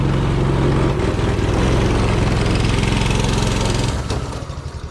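A finished budget go-kart with a live axle and torque converter runs steadily while driving across a home front lawn, its engine a loud, close, continuous drone that eases off near the end.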